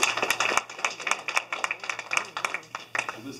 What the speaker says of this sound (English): Give her a hand clap.